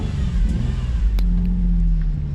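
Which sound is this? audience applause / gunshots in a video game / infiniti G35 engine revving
infiniti G35 engine revving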